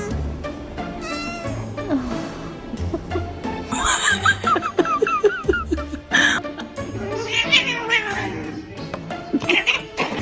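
A cat meows repeatedly in short, bright calls scattered through a busy mix, with music-like layers and other sounds around it; the calls are fairly close and clear at moments.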